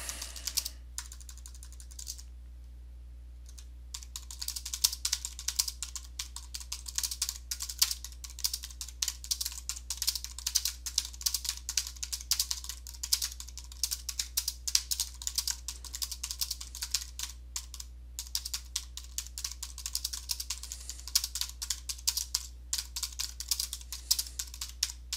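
Rapid typing on a computer keyboard while an inspection report is finished in an office, a dense run of close, crisp key clicks with a few brief pauses, over a low steady hum.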